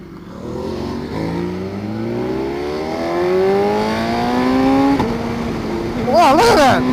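A Ducati Multistrada motorcycle engine revs up through rising tones, then drops in pitch on a downshift with a sharp blip near the end, loud and close over road noise.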